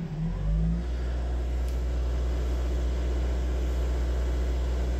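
A Vauxhall Astra 1.7 diesel engine holding steady revs around 1800 RPM while stationary during DPF regeneration, a loud, constant close drone with a brief rise at the start and no voices.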